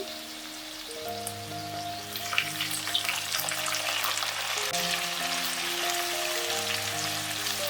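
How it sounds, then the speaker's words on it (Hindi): Chopped tomatoes frying with onion and coconut over a medium flame for drumstick sambar, a continuous soft sizzle with faint crackles under steady background music. "टमाटर को भी हमने यहाँ पे 2 से 3 मिनट के लिए मीडियम फ्लेम पे थोड़ा सा भून लेना है"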